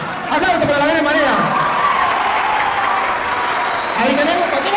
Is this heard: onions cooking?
no